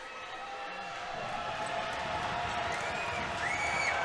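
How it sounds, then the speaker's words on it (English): High school basketball crowd in a gym during free throws, with the student section yelling in a steady, dense roar that swells slightly toward the end. "The crowd's into it, student section's yelling"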